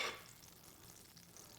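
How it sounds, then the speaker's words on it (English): Butter sizzling in hot oil in an omelette pan, a steady faint crackle that is loudest at the start and settles into a soft continuous hiss with no voices. "You can hear it sizzling already"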